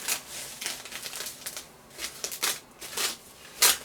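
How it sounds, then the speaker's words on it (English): A thermos being unwrapped from its packaging, with close, irregular crinkling and rustling bursts that swell and fade, including a sharper crackle near the end, and no talking. "I will unwrap it with you guys"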